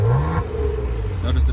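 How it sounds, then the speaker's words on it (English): A Maserati Ghibli S Q4 engine in sport mode revs briefly up close, its pitch climbing then dropping back to a steady idle-like hum. "See, I'm accelerating or hitting the throttle. I'm gonna hit sport."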